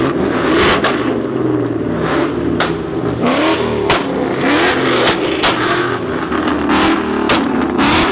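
A Nissan Skyline revs hard at a Houston car meet, its engine roaring steadily loud and near, with sharp repeated pops and crackles punctuating the sustained drone.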